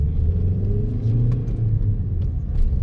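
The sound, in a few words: diesel car pulling away and accelerating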